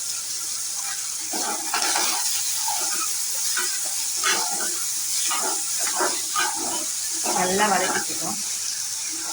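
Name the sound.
sautéing onions and green chillies with mustard seeds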